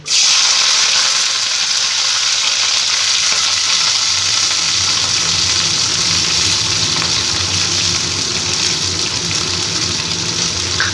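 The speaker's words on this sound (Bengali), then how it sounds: "প্রথমে আমি ফুলকপিগুলোকে ভেজে নেব তার জন্য কড়াইতে সর্ষের তেল দিয়ে দিয়েছি এবার ফুলকপিগুলো আমি ভেজে নিচ্ছি" Cauliflower florets frying in mustard oil in a wok give a loud, steady sizzle with broad hissing crackle that holds evenly for the full length, close up and with no voices.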